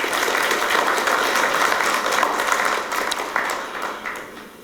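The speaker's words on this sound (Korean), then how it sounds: "여러분들께서 박수 한번 쳐주시면 제가 힘을 더 내겠습니다" Sustained applause from an audience at a Sejong City mayor's speech in Korea, a steady wash of many hands clapping that holds for several seconds and eases slightly near the end.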